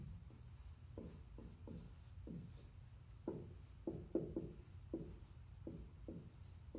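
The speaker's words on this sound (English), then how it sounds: "I'm going to write that over here for you" Writing on a classroom board during an eighth grade math lesson: a series of quiet, short strokes and taps in uneven rhythm, faint and close, with no talking.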